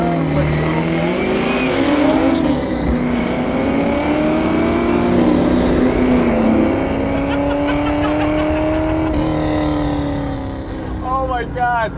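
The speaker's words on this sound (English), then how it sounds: "Let's get an idea of what this car is like if you just run through the gears. Nothing crazy, no super crazy burnouts, just some nice acceleration." Eleanor muscle car accelerating hard through the gears, a loud, close engine roar whose pitch climbs and drops with each shift for the full stretch, ending with rapid revving bursts near the end.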